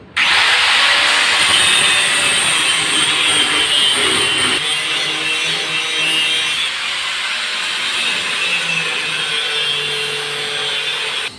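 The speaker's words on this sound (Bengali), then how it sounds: "এই যে দেখুন আমি কিভাবে রড কাটছি মেশিন দিয়ে" A power cutting machine slicing through a steel rod produces a loud, continuous high grinding whine that holds steady for the whole stretch, close up and without talk.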